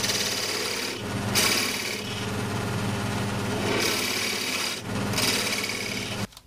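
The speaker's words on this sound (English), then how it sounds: "I'm just going to mark out the box with a what's this, parting tool." A parting tool cuts into a wooden box blank spinning on a lathe, giving a loud, steady rasping scrape with brief pauses and renewed bursts of cutting.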